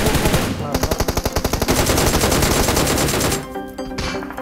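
A DP-28 machine gun fires in the BGMI battle game, a loud close rapid burst of evenly spaced shots lasting several seconds, followed by a brief pause and a few scattered shots at the end.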